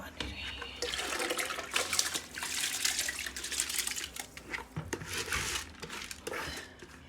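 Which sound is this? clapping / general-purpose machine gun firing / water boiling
water boiling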